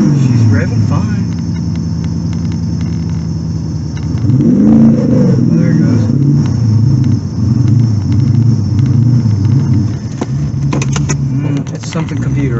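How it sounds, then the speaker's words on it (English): A car engine runs and revs repeatedly, rising and falling in pitch, close by and loud, with a steady rumble underneath. "She's revving fine."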